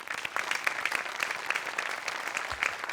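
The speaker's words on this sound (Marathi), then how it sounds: "जगातल्या सगळ्या लेखकांसाठी एकदा जोरदार टाळ्या" A studio audience at a Marathi comedy show bursts into strong, sustained applause for writers. Dense clapping fills the whole stretch at an even level, with no talk over it.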